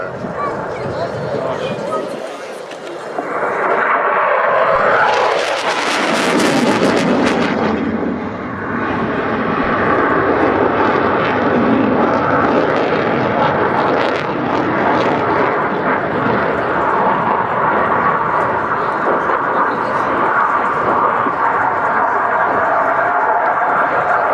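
A Czech Air Force JAS 39C Gripen jet fighter flying a display at RIAT, its loud engine roar swelling and fading continuously over a crowd, with a strong surge around the middle and steady jet noise throughout.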